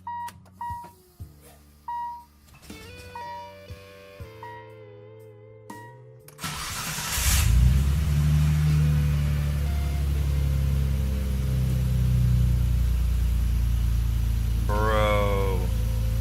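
An RB26-swapped Nissan 300ZX fires up after a run of chimes and beeps, then settles into a loud, steady idle and rev with its new exhaust, heard from inside the car, with a short voice near the end.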